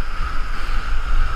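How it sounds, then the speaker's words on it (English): Ocean waves churn around a fishing boat at sea, a constant loud wash with rumbling low surges and wind noise buffeting the microphone. "These fucking waves."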